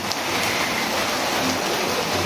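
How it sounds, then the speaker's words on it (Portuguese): Steady rain falling outdoors on an afternoon, a dense, even hiss of drops throughout with no voices. "E aí hoje, eu ia hoje e acabou que tá chovendo"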